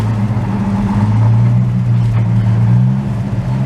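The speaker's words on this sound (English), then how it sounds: "It is our 1953 military 6x6 crane truck." The engine of a 1953 Studebaker M108 military 6x6 crane truck runs at a steady idle, a loud, deep, throbbing drone close to the microphone with no pauses.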